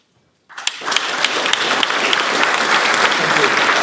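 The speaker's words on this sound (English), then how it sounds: "So I'm going to ask you now to kick off by giving them a warm round of applause." An audience at a sustainable startup investment summit breaks into a round of applause after a moment of silence. The clapping swells quickly and holds as a loud, dense, sustained wash of many hands.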